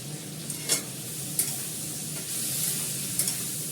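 A steady sizzle of spices frying with Kashmiri chili powder in a kadai, broken by several sharp scrapes and taps of a spoon stirring against the pan.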